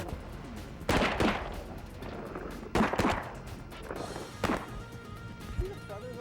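Shotgun blasts during a duck hunt on a big incoming flock: four loud, sharp reports spaced about a second or two apart, with hunters calling out around them.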